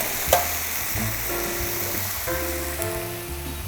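Tomato and egg sizzle in a hot wok over medium heat as a spatula gently folds them together, giving a continuous frying hiss broken by soft scraping strokes and one small clack near the start.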